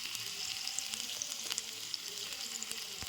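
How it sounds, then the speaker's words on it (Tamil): Onions and curry leaves fry in a pan for a spleen curry, a bright continuous sizzle with scattered crackling pops, close and steady throughout with no voices. "வெங்காயம் போட்டு வறுத்துக்கலாம். கருவேப்பிலை போட்டுக்கலாம்."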